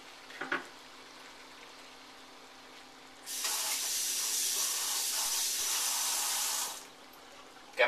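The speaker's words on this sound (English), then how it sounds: "When that returns to a boil, we're going to thicken it with the cornstarch suspension." Sauce for Szechuan-style minced pork with eggplant coming back to a boil, a steady broadband sizzling hiss that rises suddenly, holds for several seconds, then cuts off, after a brief clatter at the start.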